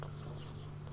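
Pen writing an English grammar example by hand, a soft continuous scratching under a steady low hum, near and faint, with no talk.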